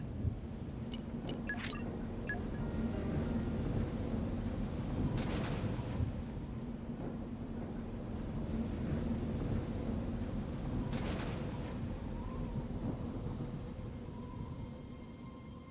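Stormy weather in Xenoblade Chronicles 2, a steady low rumble of wind and rough water with faint rolling thunder swells, continuous and moderately loud, with occasional faint high tones above.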